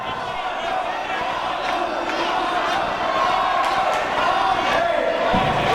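Wrestling crowd at a match between two wrestlers, a dense steady roar of cheering and shouting voices with occasional thumps, swelling a little in the second half.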